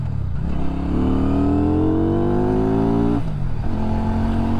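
A Benda motorcycle engine revs up, its pitch climbing steadily, then drops back and settles to a rough idle, loud and close, with no voices.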